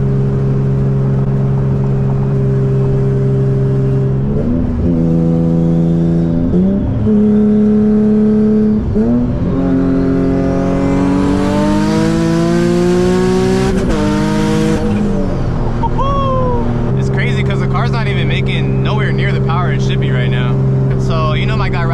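A boosted, tuned Z car engine with a Tomei exhaust revs hard several times on a dyno, its pitch climbing and falling in long sweeping pulls over a steady loud idle, close and powerful.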